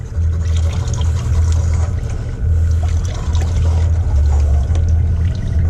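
Recirculated water sprays from the squirter of a new Kobalt wet tile saw onto a tile, making a continuous wet hiss over a deep, steady pump hum with slight pulsing. It sounds close and fairly loud, with no voices.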